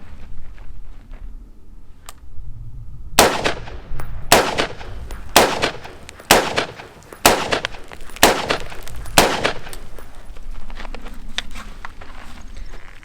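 Carbine shots fired at a holdover target on a range, about eight sharp loud reports spaced roughly a second apart, close to the microphone, with no talk.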